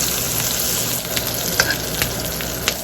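A New York strip steak sizzles loudly in a hot pan with garlic and thyme while being spoon-basted, giving continuous close frying hiss with small scattered pops and scrapes.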